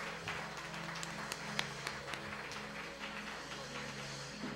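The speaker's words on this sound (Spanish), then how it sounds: "Dele una ofrenda de palmas al Señor." Church congregation clapping as an offering to the Lord, a dense continuous patter of many hands with a few sharper claps standing out, heard over a low hum at moderate distance.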